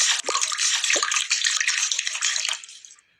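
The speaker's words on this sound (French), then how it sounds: "moi, je vais arroser les plantes" Water pours and splashes as plants are watered in the Toca Boca video game. A continuous, fairly loud gushing stream runs for about three seconds before tapering off, with no talking.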